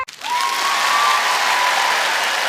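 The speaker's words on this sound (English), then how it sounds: "And like put all that audio of like kids cheering." A crowd of kids cheering, added in editing as a sound effect, rises after a brief pause into a loud, sustained wash of cheers and clapping that continues to the end.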